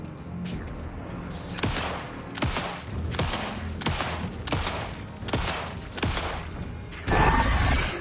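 Gunfire in the video game Alan Wake 2 on PS5: about ten loud, sharp shots at uneven intervals over eight seconds, with a louder burst of noise near the end.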